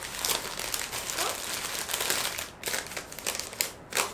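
Wrapping paper for a red rose hand-tied bouquet being folded, a steady run of close crinkling and rustling paper that goes on with only brief pauses.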